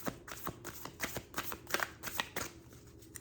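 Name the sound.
shuffling oracle cards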